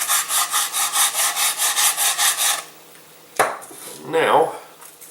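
Rhythmic back-and-forth rasping strokes of a tool beveling the wooden edge of a glider wing, about a dozen steady passes up close, then a pause followed by a couple of scraping and rubbing handling sounds.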